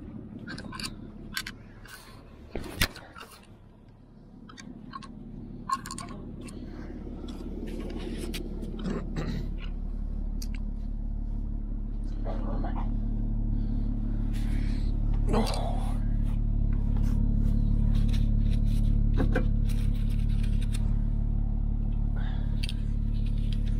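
A vehicle's engine drones and builds in low, steady revs during an off-road recovery near a lake, growing louder over the second half, with faint knocks and scrapes and occasional talk around it.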